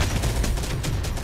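Rapid, dense gunfire from Terminator: Dark Fate - Defiance, a brief unbroken barrage of overlapping shots at constant loudness, no voices.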